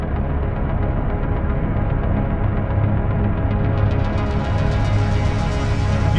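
A three-oscillator subtractive patch on a modular synthesizer, played through reverb, drones as a loud, sustained throbbing tone, its upper harmonics opening and brightening toward the end.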